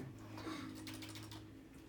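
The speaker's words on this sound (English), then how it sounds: "I think it's his keyboard." Rapid, steady clicking of keys on a computer keyboard, heard close and fairly quiet in an office setting, a continuous patter of light taps with no talking.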